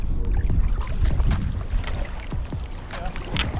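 Strong wind buffets outdoors in gusty, rumbling waves, with scattered knocks and faint voices mixed under the blustery noise.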